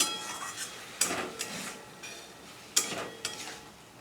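A utensil stirs chicken mince with spices in a pan, giving repeated scraping strokes and metallic clanks against the pan, close and moderately quiet, with two stronger scrapes standing out and no talking.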